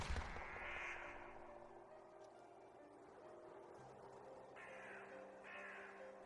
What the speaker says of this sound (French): le croassement des corbeaux